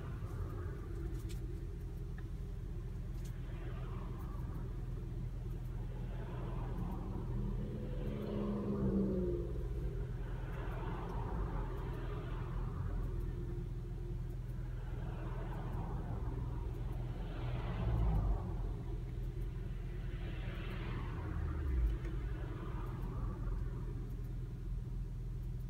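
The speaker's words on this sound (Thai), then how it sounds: "รถติดไฟแดง" Car traffic idles at a red light on a roadside lined with ginkgo trees changing colour, a steady low engine rumble with a few slightly louder swells, heard from inside or near a stopped vehicle.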